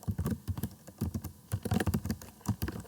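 Fast typing on a computer keyboard, close and crisp, with irregular clusters of key clicks and short pauses, no talk.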